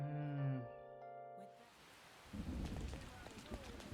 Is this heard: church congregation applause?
no